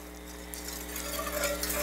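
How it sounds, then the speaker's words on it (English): Chicken broth being whisked into flour in a pan on the stove, a soft steady swishing with faint sizzling that swells slightly, brief and close with no talking. "slowly add the chicken broth, whisking it around"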